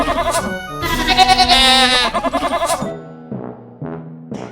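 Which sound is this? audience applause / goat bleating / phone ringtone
goat bleating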